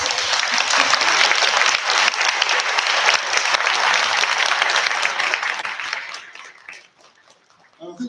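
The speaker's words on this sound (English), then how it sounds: "I think she deserves a round of applause." Applause from the audience at a fantasy awards ceremony, a loud, full round of clapping that holds steady for several seconds, then thins and fades out toward the end.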